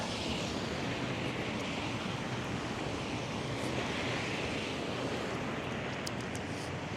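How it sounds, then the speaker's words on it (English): Strong wind gusts buffet an umbrella and batter a microphone outdoors, a loud, continuous roaring rumble with surf-like rushing that never lets up. "the wind is trying to blow my umbrella away."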